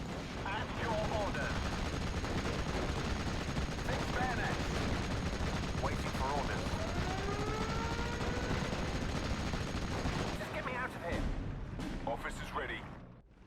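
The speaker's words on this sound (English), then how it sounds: "So much artillery coming in." Incoming artillery fire in Steel Division: Normandy 44, a dense, continuous barrage of booms and gunfire rumbling at steady loudness for most of the stretch before thinning out near the end, with a whistling streak among the blasts.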